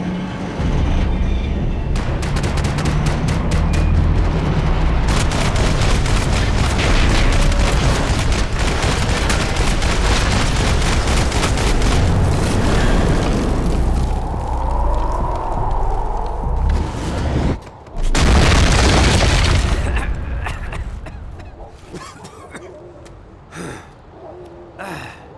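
Gunfire and explosions from the video game Max Payne 3 form a dense, loud, continuous barrage with sharp bursts and booming blasts, one heavy blast near the end before the clip fades to scattered shots.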